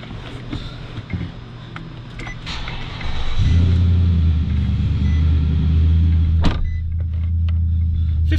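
A 2017 Nissan Titan XD Pro-4X pickup's V8 cranks briefly, then catches with a loud, deep rumble that settles into a steady, close idle, with a sharp click partway through.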